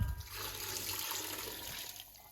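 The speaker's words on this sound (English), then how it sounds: "now we pour in our vegetable stock" Vegetable stock is poured into a Ninja Foodi pot over salted potatoes, a soft, continuous splashing gush that is faint and heard alone for a couple of seconds.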